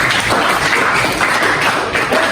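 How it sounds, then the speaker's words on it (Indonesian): A class of students breaks into brief applause in a classroom, a loud, steady patter of many hands close by that fills the whole moment without letup. "Kasih tepuk tangan untuk kamu"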